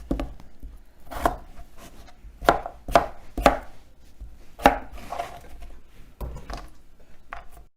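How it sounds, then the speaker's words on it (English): A knife chops through potatoes on a cutting board in quick, uneven thuds, loud and close, with irregular pauses between bursts of cuts and no voices. "So I'm going to cut all these potatoes real fast"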